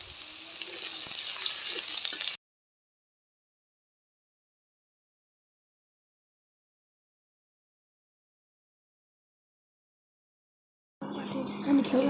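Garlic and chopped onion sizzle in a hot kadai, a short burst of frying at the start, then a long silence, then the sizzle briefly returns.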